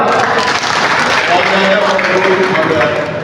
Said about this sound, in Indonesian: Tepuk tangan beliau.